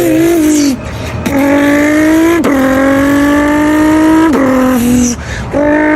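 A man vocally imitates a Nissan GT-R engine, with loud, close rising revs and upshifts: three or four sweeping pitch climbs, each breaking off sharply before the next surge, alone and without talk.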